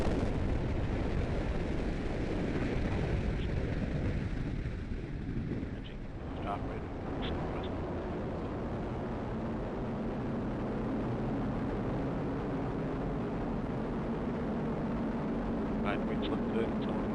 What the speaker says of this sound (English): We have ignition and liftoff of the United Launch Alliance Atlas V rocket, carrying the proto-flight mission for Amazon's Project Kuiper